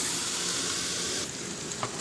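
Homemade breakfast sausage sizzles steadily on a hot griddle under a smash press, a continuous close frying hiss with crackle that thins slightly partway through.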